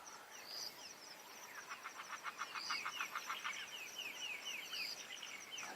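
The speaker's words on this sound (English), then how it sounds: "Got a bit of a dusk chorus happening all around us at the moment." Dusk chorus of many birds along a safari drainage line at sunset, with overlapping calls, rapid repeated chirps and trills from several directions, steady and moderately distant, no talking.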